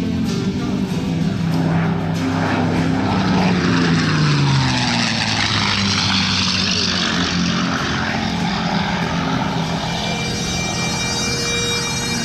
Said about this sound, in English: 487 miles per hour with that Packard-built Rolls-Royce designed Merlin engine